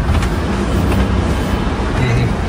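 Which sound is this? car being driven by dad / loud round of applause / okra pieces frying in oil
car being driven by dad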